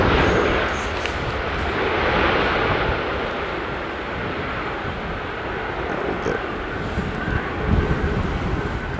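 Steady roaring wind buffets an outdoor microphone at an airport plane-spotting spot, a broad continuous rush that swells and eases over several seconds with no talk.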